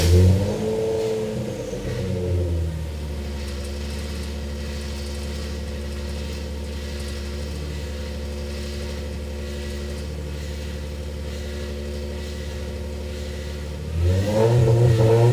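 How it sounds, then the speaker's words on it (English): A car engine running lean after new cold air intakes and ported manifolds revs up, holds a steady loud drone for several seconds, then surges again near the end, close and without talk. "It's just running lean because of the new air intakes."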